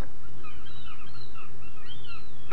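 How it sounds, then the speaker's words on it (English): Recorded seagull calls from a custom Raspberry Pi sound board: several sharp, high squawking cries overlapping in quick succession over a constant noisy background, loud and without talk. "seagulls."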